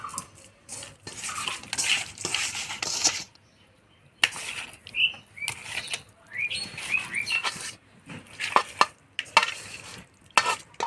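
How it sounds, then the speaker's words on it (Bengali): Pieces of katla fish are mixed by hand with turmeric and salt in a bowl, making wet, squelching stirring and clinking sounds in bursts separated by brief pauses, close and fairly quiet. "হলুদ লবণ দিয়ে মাছটা মাখাই নিলাম"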